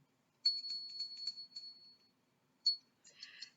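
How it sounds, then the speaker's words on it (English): A small bell rings with bright, clear strikes, a quick cluster of dings that rings out, then two more strikes after a pause; quiet otherwise. "I'll signify that by ringing a bell"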